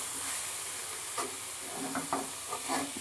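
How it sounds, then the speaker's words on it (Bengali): Grated bottle gourd and mixed vegetables stirred together in a pan, with a steady soft sizzle and frying hiss and a few scraping spoon strokes near the end. "এবার আবার খানিকক্ষণ নেড়ে নেবো এগুলো সব একসঙ্গে, সবজিগুলো"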